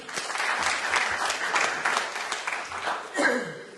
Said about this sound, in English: Can we applaud to him?